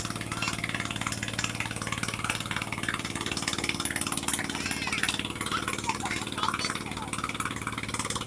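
A steady motor boat engine drone on a river runs throughout, a motor humming at an even pace with constant low rumble and busy higher noise around it.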